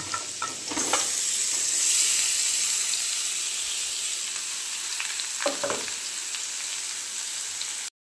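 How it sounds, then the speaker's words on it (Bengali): Marinated soybean chunks and potato fry with spices in a pan, giving a steady sizzle throughout with occasional scraping stir strokes, fairly close and with no voices. "সয়াবিনটা ভালো করে ভেজে নেব, সয়াবিন আলু মশলাটা।"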